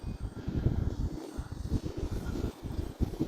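Hobbyzone Carbon Cub S 2 1.3 m RC airplane flying slowly in wind, its small electric motor buzzing steadily close by, nearly masked under heavy, gusty wind rumble throughout.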